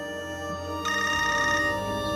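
A telephone bell rings in a bright, rapid trill lasting under a second, close and loud over steady background music, with no talk.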